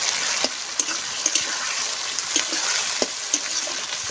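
Spices and a ginger-cumin paste fry for a mutton curry, giving a steady hiss of sizzling oil with a few sharp stirring clicks and scrapes at irregular intervals, close and moderately loud.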